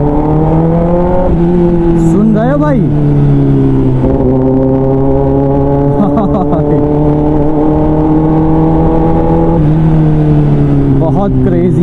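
Kawasaki ZX10R superbike with a modified carbon exhaust, a loud, close, deep idle broken by several quick throttle blips that rise and fall in pitch.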